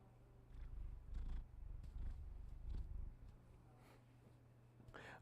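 A contented male house cat purrs up close, a low steady rumble that swells and eases in slow waves, with a brief faint higher sound near the end.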